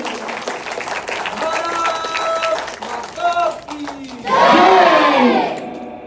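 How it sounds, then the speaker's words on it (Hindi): At a Maratha-themed speech gathering, an audience claps and cheers, with voices and shouts mixed in. The crowd swells to a loud, chanting roar toward the end. "तो शिव प्रलय के लिए जोरदार तालियां आपसे हो जानी चाहिए।"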